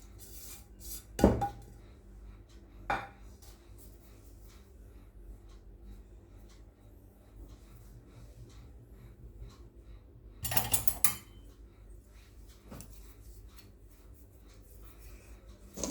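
Dry pizza dough ingredients being stirred into maida flour in a bowl: sporadic close clinks and scrapes of a utensil against the bowl, a few short knocks, then a denser scraping burst, with quiet stretches between and no talking.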